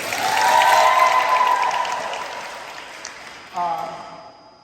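Audience applause at a school sports awards banquet for an award winner, a swell of clapping that fades out beneath a microphone tone and a brief voice.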